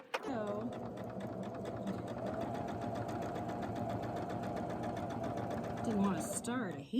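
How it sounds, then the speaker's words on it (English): Quilt block being sewn on a sewing machine along a drawn line, a steady continuous motor whir with rapid needle rhythm running close and loud for nearly the whole stretch, stopping briefly near the end. "so I'm just going to sew right on the line."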